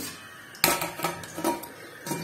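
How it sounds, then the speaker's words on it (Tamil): Metal pan set down on a home stovetop for making adai, barley lentil dosa, giving a few close clanks and knocks of cookware with light utensil rattles, no talking. "அடைக்கு வானல் ஃபர்ஸ்ட் வச்சுட்டு வந்துடுறேன்."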